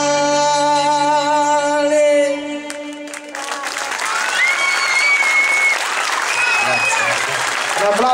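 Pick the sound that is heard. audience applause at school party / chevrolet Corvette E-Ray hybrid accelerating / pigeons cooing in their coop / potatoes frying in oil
audience applause at school party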